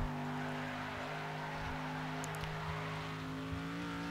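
Car driving in Next Car Game, engine holding a steady droning tone with strong harmonics, close and loud, with faint tire scuffs and small knocks.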